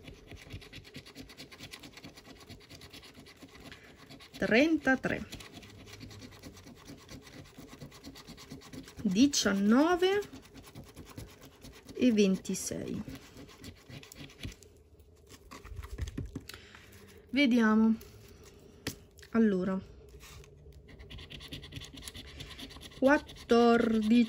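Scratch-off lottery tickets (Italian Gratta e Vinci, 10X) being scratched with repeated close-up scraping bursts in short bouts, with occasional voice sounds between them.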